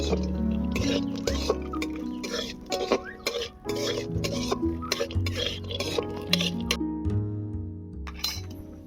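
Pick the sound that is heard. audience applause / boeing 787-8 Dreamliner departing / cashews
cashews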